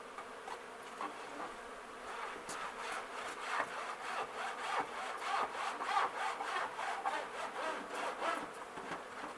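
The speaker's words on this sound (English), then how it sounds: "I'm going to scrape them off, and then that allows me to go ahead and clean everything up" Repeated rough scraping strokes as dead bees are scraped off a beehive bottom board, close and steady, with a faint buzzing of bees in the background.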